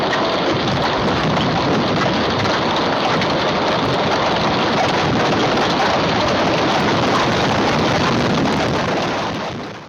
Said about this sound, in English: Intense hail pelting down like bombs from the sky